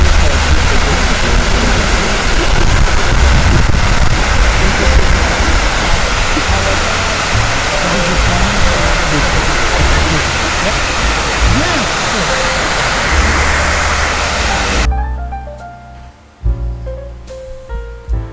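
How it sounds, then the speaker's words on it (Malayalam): Loud, steady roar of a waterfall at Schönbrunn Palace in Vienna fills most of the recording without a break, then cuts off abruptly near the end, leaving quieter scattered sounds. "നമ്മൾ ആ വെള്ളച്ചാട്ടത്തിൻ്റെ സൗണ്ട് അതേപടി ഒന്ന് നിങ്ങളിലേക്ക് എത്തിക്കാൻ ശ്രമിക്കുകയാണ്."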